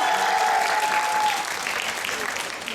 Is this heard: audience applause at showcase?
yes